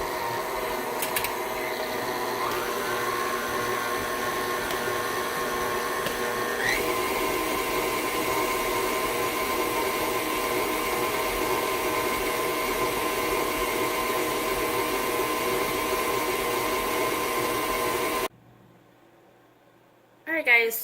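A kitchen appliance mixing cheddar cracker dough, a steady loud motor whir that shifts pitch slightly and runs almost continuously before stopping abruptly near the end.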